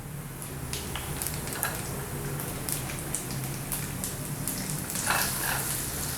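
White cumin seeds hitting hot oil with browned garlic for a dal tadka, giving a steady crackling sizzle with scattered sharp pops and spits throughout, fairly close and without any talking.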